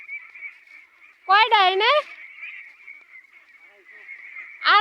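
Ducks on a duck farm let out a rapid burst of loud, nasal quacking calls, then another short call at the end, over a thin steady background tone, with a person speaking nearby.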